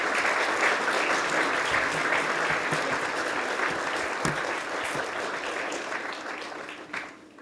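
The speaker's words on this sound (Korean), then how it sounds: "다시 한번 큰 박수 부탁드립니다" An audience at a public hearing on judicial reform claps in a sustained, even burst of applause that fills the room and tapers off near the end.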